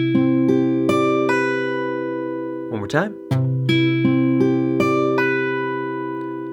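An acoustic guitar plays a fingerpicked crisscross variation from a song, clear close plucked notes in a steady repeating rhythm, interrupted midway by a brief spoken remark before the pattern resumes.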